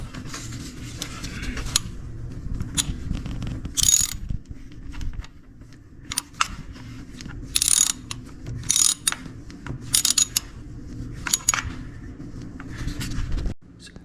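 A ratchet tightens a spark plug into a Honda Accord engine, giving close bursts of rapid clicking separated by short pauses over a faint low hum.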